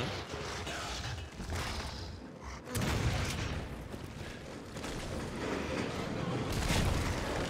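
Gunfire bursts and a grenade blast in the video game Resident Evil 6, loud dense battle noise running throughout with a sharp boom near the middle and continued shooting after.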